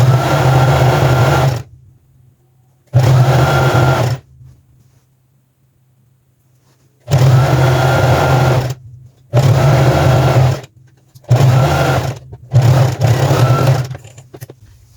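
A sewing machine stitches the inseam hem of elastic-waist trousers in loud, close bursts of whirring motor, about six runs of different lengths separated by silent pauses.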